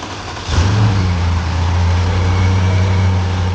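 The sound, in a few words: 2012 Bentley Continental GT engine revving after engine reinstalled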